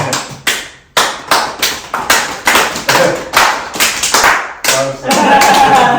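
A group claps hands in a steady, rhythmic pattern, about two to three sharp claps per second, close and loud, during a podcast with members of Catalyst Symphony; a denser burst of sound closes the final second.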